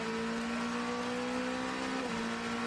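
An Oreca 07 prototype race car climbs onto the banking at Daytona during practice for the 24-hour race, a steady distant engine drone that holds a sustained tone, then dips slightly in pitch near the end, with no talk.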